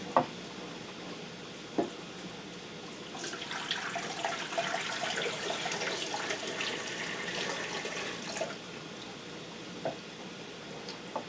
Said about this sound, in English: And then next you add 4 cups of water.